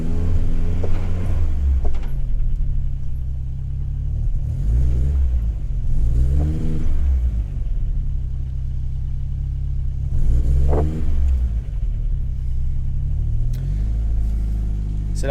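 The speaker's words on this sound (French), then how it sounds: "C'est la wastegate qui touche." A car engine with a wastegate that touches revs in repeated surges, a loud low rumble that climbs and falls in several waves throughout, with no talking over it.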